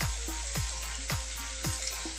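Chana dal with ginger paste frying in a pan, a steady sizzle with regular rhythmic scraping strokes of stirring, close and even.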